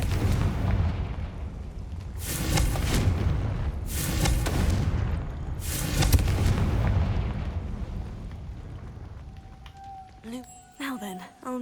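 Confringo spell explosions in a Harry Potter video game: three heavy booming blasts roughly two seconds apart, each rolling into a rumbling tail, over a steady low background, with brief talk near the end.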